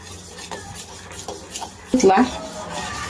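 Hot milk whisked fast in a metal pan for homemade vanilla ice cream, quick scraping and clinking strokes building to a louder flurry near the end, with a voice talking over it.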